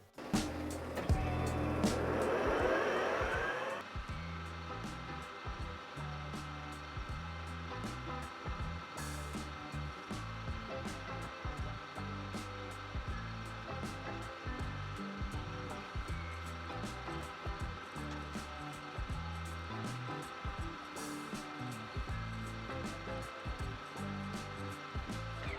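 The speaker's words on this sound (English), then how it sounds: "Now we'll set up at the lathe and give this a shot." A metal lathe spinning a 1075 and 15N20 steel bar to friction weld them for Damascus: a steady, loud mechanical drone with a rhythmic pulsing hum, preceded by a brief rushing start-up, continuous throughout.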